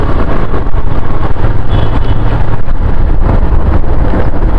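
A 150cc motorbike runs flat out near its top speed of about 107 km/h on the road from Butwal to Bhoot Khola in Palpa, with loud, constant wind buffeting and engine roar filling the sound and no talking.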